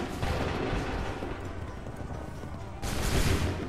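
Massed musket volleys ring out in Assassin's Creed III at the Lexington and Concord battle, a dense crackling roar that holds steady and then swells into a fresh, louder burst near the end.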